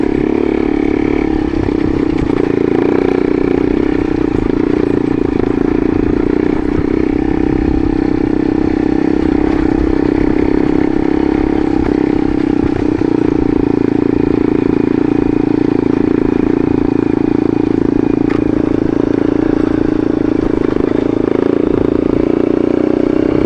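A motorcycle rides steadily along a mountain road from Tusquittee Road toward Tuni Gap and Lake Nantahala, its mid-pitched engine droning continuously and close up with wind rush and occasional rattles, no voices.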